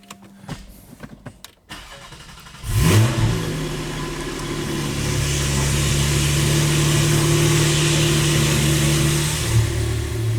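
A Porsche GT4 fitted with a Soul Performance valved exhaust fires up after a short stretch of quiet, then settles into a loud, steady, rumbling idle that swells slightly, close by with no talking.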